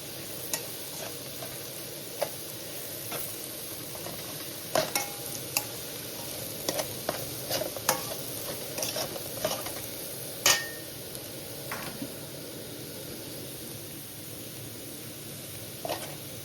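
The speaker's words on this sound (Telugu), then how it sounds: "ఇంకొంచెం వేగనిచ్చి అప్పుడు" Beetroot fries in a pan with a steady sizzle, while a spatula stirs and scrapes in irregular clicks and knocks against the metal, close and fairly quiet.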